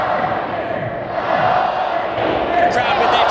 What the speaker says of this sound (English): The crowd with their traditional chant, you might be able to hear it.